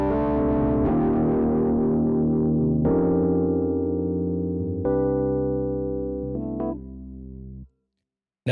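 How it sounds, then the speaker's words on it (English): Vintage electric piano in Logic Pro played with drive distortion, a sustained chord pattern with gritty, saturated low harmonics, several chord changes decaying into silence near the end. "You can hear distortion kind of being added to those low frequency harmonics."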